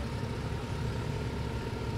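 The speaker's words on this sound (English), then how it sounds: "Not so good idling" Porsche engine idling at a car-spotting meet, a steady, low rumbling drone held at moderate volume for the whole stretch with no talk over it.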